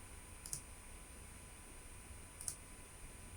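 Faint computer mouse clicks while working in Photoshop, two quick double-click pairs roughly two seconds apart over a quiet background hiss.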